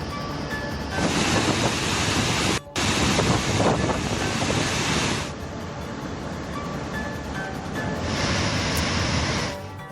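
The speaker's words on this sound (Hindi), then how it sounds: "डैम्स में पानी ओवरफ्लो कर रहा है" Heavy water overflowing a dam after heavy rain at Srisailam, a loud continuous roaring rush with surges, alone, with no talk.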